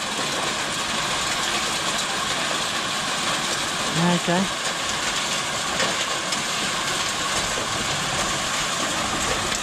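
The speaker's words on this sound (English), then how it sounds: "Get the tractor going." At a sapphire mining site in Australia, a tractor engine idles with a low, steady rumble throughout, and a voice speaks briefly over it partway through.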